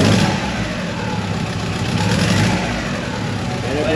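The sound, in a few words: 3G Eclipse turbo engine running after head gasket swap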